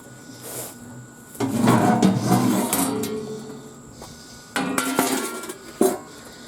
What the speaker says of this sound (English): I gotta take the screws out.